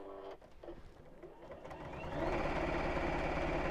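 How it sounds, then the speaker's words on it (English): A sewing machine top stitches along a fabric seam, starting with a few slow, hesitant stitches before settling into a fast, steady mechanical whir that grows louder and continues to the end. "So I did say we would top stitch across each side, so that's what I'm going to do now"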